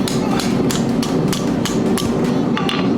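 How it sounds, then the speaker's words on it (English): Hammer blows on a metal hook bent over the edge of an anvil while making a simple hook rack: a steady series of about nine loud, close, ringing strikes at an even rhythm. "We'll use the edge of the anvil to kind of close it up."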